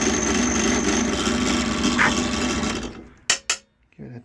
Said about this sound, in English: I put a chamfering tool in my drill press